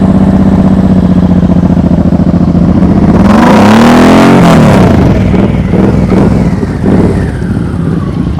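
A motorcycle engine during slow-speed riding practice, loud and close, holding a steady throttle before a sweeping rev rises and falls midway, then settling back to a rough, pulsing run.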